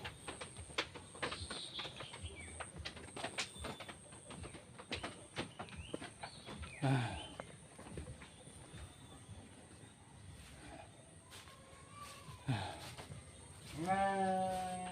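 Sheep bleat in a village at Kampung Cibuluh, Nagrak, Sukabumi. A few bleats come through a busy outdoor background, and the clearest and loudest call arrives near the end.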